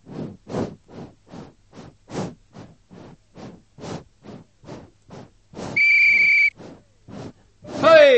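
A cheese-flavoured toy whistle blown in a rhythmic series of short breathy puffs, about a dozen bursts, with one longer clear whistling tone near the end, close and fairly loud.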